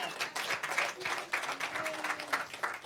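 An audience at a congressional event on disability rights legislation applauds, with moderate, fairly distant clapping in uneven bursts that rise and fall over a few seconds while a voice speaks faintly underneath.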